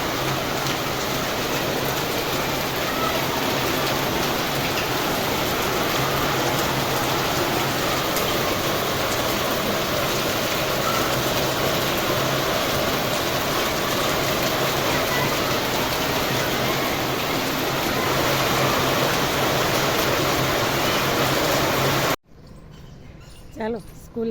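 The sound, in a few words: heavy rain falling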